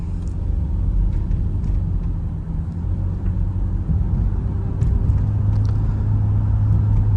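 A 2011 Toyota Sienna LE minivan with about 168,000 miles cruises steadily on the road, giving a continuous low engine and road rumble with a few faint ticks and knocks and no talking.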